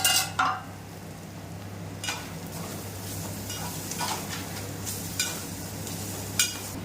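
A spoon scrapes and clinks through bitter gourd fry in a pan, giving a few sharp metallic knocks over a low, steady sizzle, with no talking.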